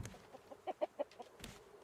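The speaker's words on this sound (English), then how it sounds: "Chickens." Chickens in a farm pen in a building game cluck softly, a quick run of four or five short clucks followed by one more, faint against a quiet background.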